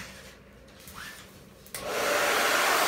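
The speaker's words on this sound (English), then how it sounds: "I'm gonna get the hair dryer all set up" A hair dryer switches on with a click and blows steadily at close range, a loud continuous whoosh after some faint handling noise.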